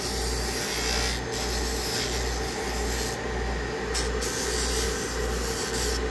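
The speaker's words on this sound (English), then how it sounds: "That's just a sander basically, and it's real handy." A bench sander runs steadily in a leather and shoe repair shop, giving a continuous rubbing, rasping drone with a low hum and faint periodic pulses throughout, fairly close and alone.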